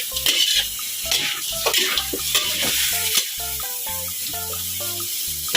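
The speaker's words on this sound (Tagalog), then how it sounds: "igisa natin siya sa luya para" Chicken pieces sautéed with ginger sizzle in a pan while being stirred, with scrapes and clatters over a steady hiss and melodic background music playing underneath.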